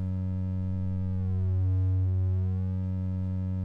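A steady synthesizer tone with strong harmonics, its voltage-controlled filter at full resonance slowly sweeping down and back up, loud and continuous with no other sound.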